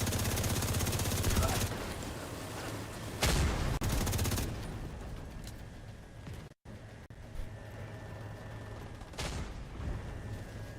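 Automated defense turrets in The Division 2 fire sustained bursts of rapid gunfire, loud and continuous, broken by brief pauses and a sudden cut near the middle, with voices audible between volleys.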